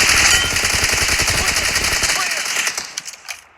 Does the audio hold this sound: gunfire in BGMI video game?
yes